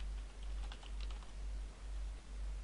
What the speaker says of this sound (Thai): ผมจะพิมพ์ให้ดูก่อนนะ